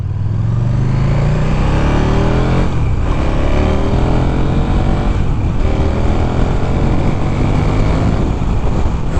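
A 2015 KTM 1290 Super Duke R runs on the road with a loud, steady engine drone, its pitch climbing and dipping as the rider works the throttle, mixed with rushing wind.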